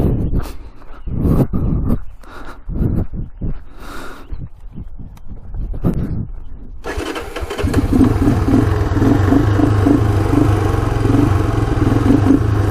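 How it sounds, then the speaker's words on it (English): A 1987 Honda 250 Big Red three-wheeler idles steadily at close range for the second half, preceded by intermittent clatter and bursts of handling noise. "First ride on the 1987 Honda 250 BigRed"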